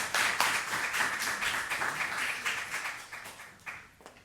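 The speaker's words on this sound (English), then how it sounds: "Please give her a round of applause." Steady applause from an audience, many hands clapping together at a fairly loud level, tapering slightly toward the end.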